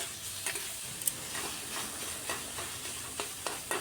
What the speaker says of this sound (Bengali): এটা খুব ভালো করে ভাজা ভাজা করে নিচ্ছি পুরটাকে।